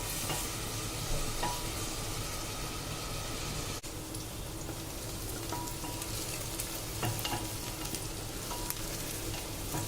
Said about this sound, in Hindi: इसमें प्याज को फ्राई कर ले रहे हैं